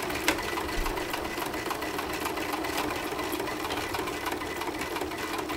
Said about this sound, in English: So I'm just sewing across on my